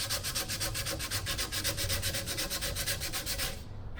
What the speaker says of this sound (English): so you just keep sanding like this